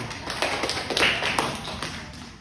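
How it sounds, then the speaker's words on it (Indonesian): Scattered clapping from an audience in a university lecture hall during a guest lecture at UMS Solo, a string of crisp separate claps with uneven rhythm, fairly close, with little talking. "Tepuk tangan dulu."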